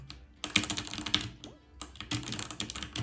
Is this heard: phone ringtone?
no